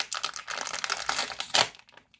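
A plastic wrapper on a Justice League surprise toy package is torn open and crinkled up close, a quick burst of rustling that stops abruptly.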